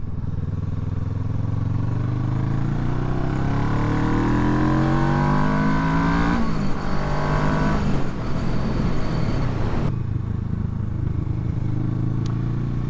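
A 2007 Kawasaki ER6N motorcycle ridden on the road, its engine note rising and falling through gear changes and acceleration, loud and continuous with no talking.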